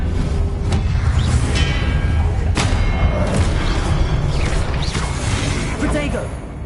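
Blasting fire spell explosions and impact thuds in the Hogwarts Legacy video game during combat, repeated bursts and whooshes over a dense, loud background of spell effects.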